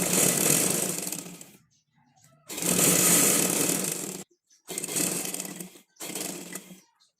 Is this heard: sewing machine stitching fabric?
yes